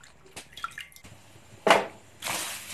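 Tender green beans are washed in water, with scattered drips and splashes followed by louder sloshing and a running rinse, close and alone.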